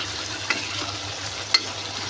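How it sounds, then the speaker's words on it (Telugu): Ginger-garlic paste frying and being stirred in a pan, a soft continuous sizzle close by with two brief scraping taps of the spoon. "అల్లం వెల్లుల్లిపాయ పేస్ట్ వేసి కొంచెం కలపాలి"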